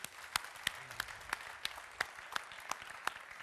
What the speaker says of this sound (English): would give him a round of applause, please, as he comes up